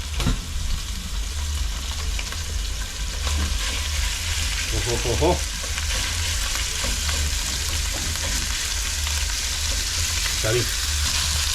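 Ground beef frying in a pan, a steady close sizzle with occasional stirring scrapes and small clinks, no voices.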